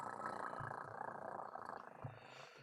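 A person imitating a cat purring loudly during a live comedy improv show, producing a continuous low rumbling purr that stays steady and fairly close.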